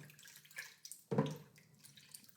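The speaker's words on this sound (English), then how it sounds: "So I'm going to fill my measuring jug to the top" Tap water runs into a measuring jug in quiet, uneven bursts, with one stronger gush midway and soft splashing around it.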